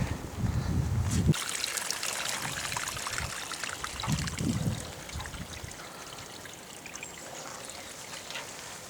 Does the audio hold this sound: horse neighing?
no